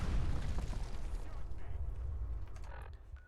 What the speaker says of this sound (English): Every pellet explodes.